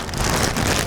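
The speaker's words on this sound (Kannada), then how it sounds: "ಮಳೆ ಹಂಗೆ ಬರ್ತಾನೆ ಐತೆ" Rain falling outdoors on a foggy hilltop peak, a dense, loud wash of droplets with wind rushing through it, close and steady for a brief moment with no voices.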